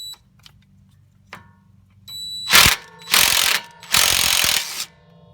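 A driver ratchet spins a nut off the top connection of a sway bar link on a 2009 Honda Pilot. After a few light ticks come three loud, close bursts of fast ratchet clicking, with no talking.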